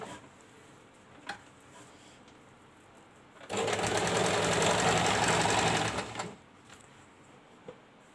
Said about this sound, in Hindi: हमें बस बराबर से और इसमें सिलाई लगानी है